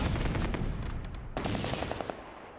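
Mortar fire and machine-gun bursts crackle in the Close Combat: A Bridge Too Far wartime strategy game during fighting at Nijmegen, with rapid rattling volleys and a sharp blast midway, fairly faint and with no talk.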